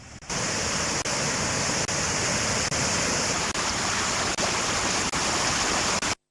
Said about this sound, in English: Water released from the Kandalama Reservoir in Dambulla is flowing through the Dambulla Oya into Kalababa.